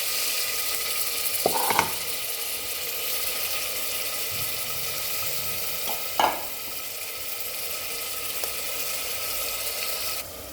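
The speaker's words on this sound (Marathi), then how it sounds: "कांदा टाकून घ्यावे आता मटण बी टाकून घेतो लगेच" Mutton and onion fry in oil in a pan with a steady, even sizzle throughout, and two brief louder scrapes of stirring break through near the start and the middle.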